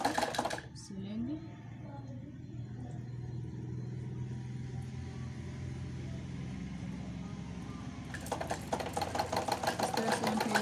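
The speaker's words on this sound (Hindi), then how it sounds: "इस तरह से हम इसको साड़ी को सिलेंगे।" A sewing machine runs steadily while a saree is stitched, with a continuous mechanical whir and a rapid, louder burst of stitching near the end; talk is heard early on.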